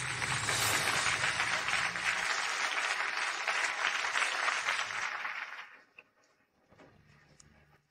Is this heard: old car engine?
no